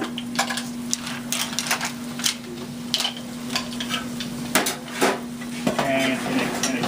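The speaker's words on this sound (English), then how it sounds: "the mussels are cooking away" Mussels cooking in a pan in a kitchen, with repeated metallic clinks and scrapes of pan and utensils over a steady low hum and faint sizzle, the knocks sharp and irregular throughout.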